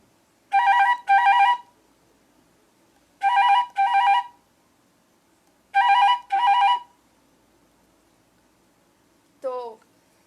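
A flute imitates a ringing telephone at a performance, playing three paired bursts of bright trilling tones with pauses between them, then a short falling glide.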